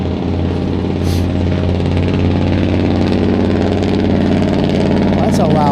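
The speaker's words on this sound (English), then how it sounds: "Well, that's a loud truck." A loud truck engine rumbles close by through the whole stretch, a heavy steady low drone with a brief hiss like an air brake, heard along the Montour Trail near Cecil, Gilmore and Westland in March.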